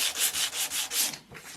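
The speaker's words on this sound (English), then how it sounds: "lots of sanding." Rhythmic back-and-forth hand sanding on wood for a small drawer unit, about six close, steady strokes followed by a couple of lighter passes.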